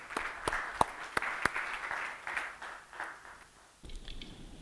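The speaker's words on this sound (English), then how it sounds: "wish you to give a round of applause to welcome Samir to the stage" An audience at a smart-security conference panel in Qatar breaks into applause to welcome a speaker to the stage, a dense wash of clapping with a few sharp claps standing out, fading off before a brief pause.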